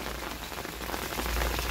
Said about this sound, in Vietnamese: Thời tiết thì đang mưa một chút quý vị ạ